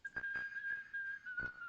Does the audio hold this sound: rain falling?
no